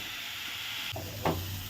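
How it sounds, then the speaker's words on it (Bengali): Eggplant (brinjal) slices frying in oil in a home-kitchen pan for a Bengali dish, a steady soft sizzle that swells as pieces go in, with a brief clatter partway through and no one talking. "তারপরে এটার মধ্যে বেগুন ভেজে নেব।"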